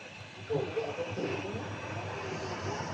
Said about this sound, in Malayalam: എയർ ഇന്ത്യ എക്സ്പ്രസ് അതിലാണ് നമുക്ക് പോകേണ്ടത്